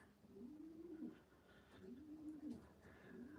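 Racing pigeons in a loft coo softly, with repeated low rolling calls at a steady rhythm, faint and fairly close against a quiet background hum.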